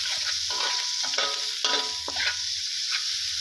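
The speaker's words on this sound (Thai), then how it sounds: "อันนี้เป็นเนยจืดนะครับ เนยจืดกระเทียมแล้วก็หอมหัวใหญ่นะครับ ผม นี่ครับผัดให้หอมให้เหลืองเลยนะครับ" Garlic and large onion stir-frying in unsalted butter sizzle steadily with a bright, dense crackle, while a spatula scrapes and clinks in quick repeated strokes close to the pan; no one speaks.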